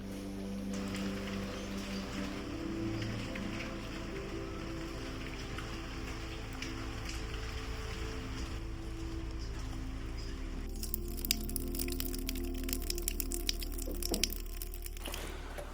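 Pouring winter rain falls steadily as a dense, even patter throughout, growing crisper and more splashy toward the end, with faint wind.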